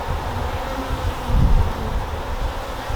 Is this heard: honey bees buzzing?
yes